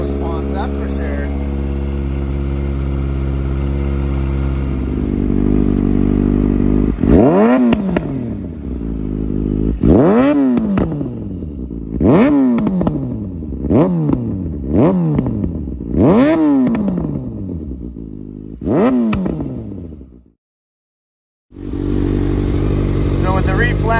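A 2019–2021 Kawasaki Ninja ZX6R with a reflashed ECU idles, then revs in a series of sharp blips that rise and fall quickly, loud and close, before cutting out briefly and settling back to idle.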